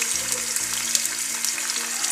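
Ripe hog plums dropped into hot oil with panch phoron and stirred, a bright, constant close sizzle with faint crackles and a steady low hum underneath.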